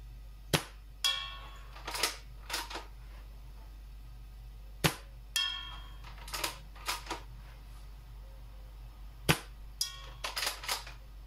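Three bursts of sharp, snappy shots from a KJW M700 gas airsoft sniper rifle running low on gas, each a quick pop followed by a short hiss and several rapid clicks, fairly quiet with pauses between.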